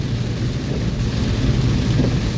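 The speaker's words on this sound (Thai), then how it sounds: "ฝนมาแล้วครับฝนมาแล้ว หนักหนักหนักนะครับ" Heavy rain pours down during a thunderstorm while driving on Highway 226 in Sisaket, Thailand, a loud, dense, unbroken roar with deep rumbling underneath and no talk.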